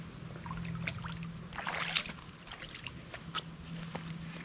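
Feet are washed in cool lake water, with gentle splashes and trickles coming in small irregular bursts, faint and close, over a low steady hum.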